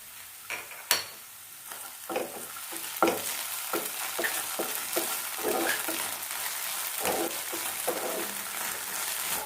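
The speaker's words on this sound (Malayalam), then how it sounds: "ഇനി നമുക്ക് ഇഞ്ചി വെളുത്തുള്ളി പേസ്റ്റ് ഇട്ട് കൊടുക്കാം" Onions frying in a pan with ginger garlic paste for a sausage roast, a soft steady sizzle broken by repeated scraping stirs of a spoon, close and fairly quiet.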